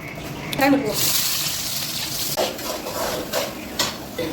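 Mustard seeds dropped into a hot pan for a prawn dry-fish thokku, giving a steady frying sizzle with clinks of a utensil stirring against the pan, close by, under a voice talking.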